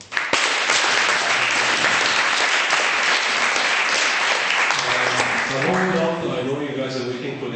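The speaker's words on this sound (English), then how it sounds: "I'd ask you please to give them another round of applause" An audience at a university public speaking event gives loud, sustained applause that fills the room, then a voice starts talking as the clapping fades toward the end.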